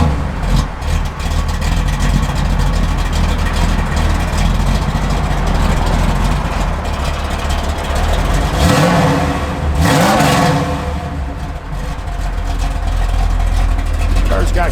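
A 1970 Chevrolet Camaro RS V8 idles loud and close with a deep steady rumble, blipped into a brief rev partway through, while someone talks over it.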